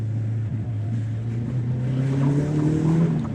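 Caterham 310R sports car driving at moderate speed, a steady close engine drone with pitch slowly rising as it accelerates, loud and continuous with no talk.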